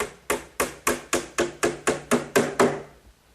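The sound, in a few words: hammering 5-penny box nails into hutch frame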